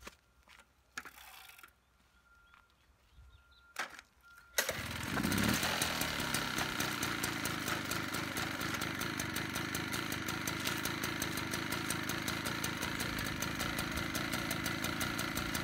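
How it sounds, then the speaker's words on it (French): 1965 Motoconfort Cady C1 moped: a few mechanical clicks and kicks, then the small engine fires up and settles into a loud, steady, buzzing idle with a fast regular putter. "maintenant je vais la faire démarrer pour vous montrer. Donc malgré son âge, elle démarre encore très bien"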